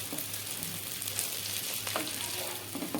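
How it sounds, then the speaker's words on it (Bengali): Egg and vegetable pasta fries in a pan with very little oil over a low flame, giving a continuous close sizzle with soft stirring scrapes now and then. "এইভাবে 2-3 মিনিট ধরে নাড়াচাড়া করে নেব।"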